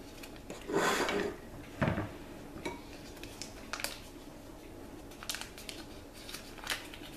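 A teaspoon clinks against a bowl and a baking powder sachet rustles during cookie making, with two sharper clatters early on and then scattered light taps and crinkles at close range.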